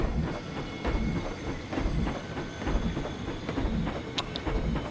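Rumbling clatter of a train riding along its tracks in Planet Coaster, a steady rhythmic clickety-clack with a brief high squeal near the end.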